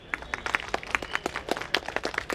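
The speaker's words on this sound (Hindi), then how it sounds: "इनके ताली बजा दी जाए।" Audience clapping for an agriculture department official at a Hindi-language dairy and crop-residue farming meeting, a short burst of scattered hand claps close by, uneven and fairly quiet, with no talk over it.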